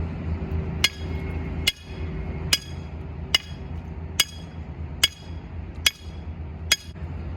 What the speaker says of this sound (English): show us how to properly drive a stake into the ground